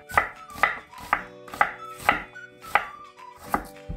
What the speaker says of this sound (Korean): 이렇게 썰어서 갈기 수월하게.